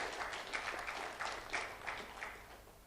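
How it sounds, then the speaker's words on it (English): A summit audience at a housing finance expo gives brief, moderately distant applause. The clapping is dense and slightly uneven, with a few louder surges, and lasts only a few seconds. "Can we please make that applause for her a lot louder?"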